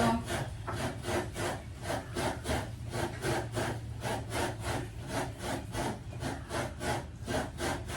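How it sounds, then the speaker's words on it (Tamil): Coconut grated by hand in a home kitchen, a steady rhythmic scraping of roughly two strokes per second, close and continuous with no voices. "நான் தேங்காய் திரும்பி பண்ணுறேன்"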